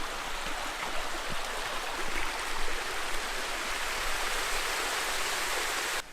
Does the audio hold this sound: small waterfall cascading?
yes